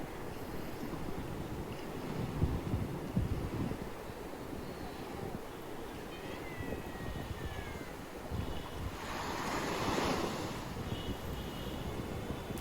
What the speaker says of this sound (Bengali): এই যে স্নিগ্ধ পানি এবং প্রত্যেকটা স্রোতের শব্দ যে কতটা মধুর